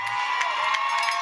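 High school football fans at a James Monroe versus Brentsville game cheer and shout in a brief, steady burst of crowd noise, with no distinct talk over it.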